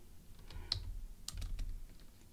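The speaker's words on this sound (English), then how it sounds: "push C on the keyboard to create a condition" Single computer keyboard key presses, a few light, quiet clicks against a low background hum.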